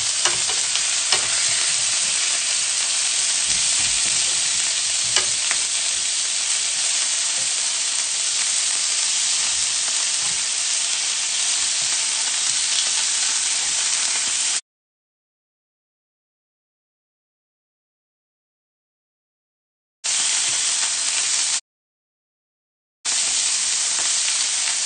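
Potatoes frying in plenty of hot oil give a steady, dense sizzle that runs continuously for about fifteen seconds, then returns in two shorter bursts separated by silent gaps.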